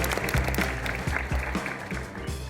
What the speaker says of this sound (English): How about a round of applause for this fantastic product,